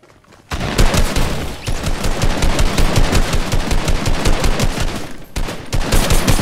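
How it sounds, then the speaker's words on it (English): Loud, dense automatic gunfire from a shooter video game, rapid bursts rattling almost continuously after a brief quiet start, with a short dip midway before the firing resumes. "Oh, there's a lot of gunshots."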